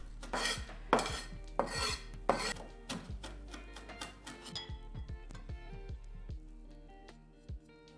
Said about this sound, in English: Start chopping chilies and Sichuan peppers with a knife until they become coarse fine pieces.